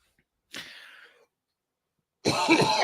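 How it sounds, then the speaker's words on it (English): A single soft cough, then after a short pause a louder, harsher cough close up, in an otherwise quiet room. "Sorry, I had to cough."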